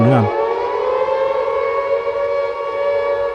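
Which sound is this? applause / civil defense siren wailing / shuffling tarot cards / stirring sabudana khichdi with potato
civil defense siren wailing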